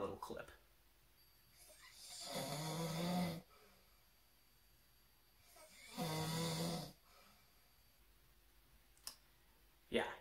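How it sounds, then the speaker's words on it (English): A roommate snores loudly in two long rasping inhalations several seconds apart, each rising and fading, with a few sharp clicks in between in an otherwise quiet room. "he snores really loud"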